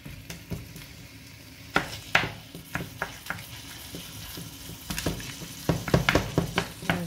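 Salted pork browning in a pan for fried rice, a steady close sizzle with scattered sharp clicks and scrapes of stirring that bunch together near the end, no voices.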